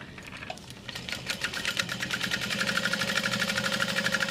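Sewing machine basting the layers of a backpack pocket together, running in a fast, even stitching rhythm that builds from a soft start into a steady mechanical patter, close and moderately quiet.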